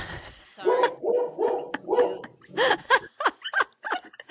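A dog barks in a series of roughly six sharp, fairly close barks, the first few evenly spaced and the later ones quicker, heard alone without talk.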